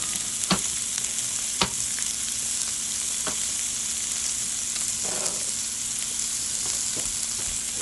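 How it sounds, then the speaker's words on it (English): Sweet Vidalia onions sizzle in fish drippings in a one-pan dinner, giving a steady, even frying hiss with a few sharp utensil clicks against the pan. "Let's go ahead and put our sweet Vidalia onions in."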